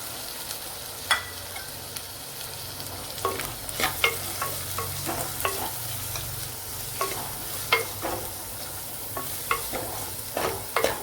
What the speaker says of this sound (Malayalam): അതിലേക്ക് ചെറിയ പീസ് ഇഞ്ചി വെളുത്തുള്ളി അതൊന്ന് വഴണ്ട് വരണം